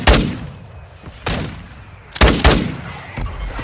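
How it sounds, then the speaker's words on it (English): Mortar strike explosions in Call of Duty Warzone Mobile: a series of sharp booming impacts, one at the start, another a second later, then a cluster of several blasts close together, each followed by a rumbling decay. "Mortar strike is inbound."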